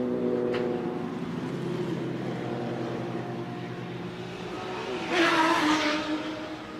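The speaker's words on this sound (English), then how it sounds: "BMW blasting past the pits." BMW race car blasting past the pits at Road Atlanta in Georgia during a Group 5 demo run, a sustained engine roar heard from a distance that swells briefly as it passes.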